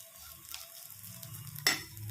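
Grated coconut frying in a pan for a mutton gravy, a steady close sizzle with light stirring scrapes and a sharp utensil knock toward the end.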